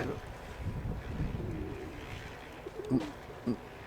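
Domestic pigeons at a home loft give a couple of short low coos near the end, over quiet background rustle and faint outdoor noise.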